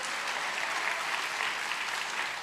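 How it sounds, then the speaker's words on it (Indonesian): An audience at a sermon bursts into sustained applause, a uniform crackle of many hands clapping throughout, moderately loud and even, with no speech over it. "Tepuk tangan dong"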